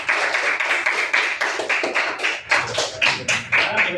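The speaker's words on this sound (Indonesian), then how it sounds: "Ya, tepuk tangan untuk kelompok A." Clapping for group A in a classroom during a teacher performance assessment, a small group giving fairly close, rhythmic bursts of claps that rise and fall in short waves.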